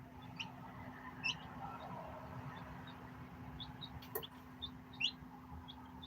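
Two baby chickens on a farm give small, high cheeps and chirps scattered across a quiet background, with a steady low hum and a brief sharp clatter in the middle.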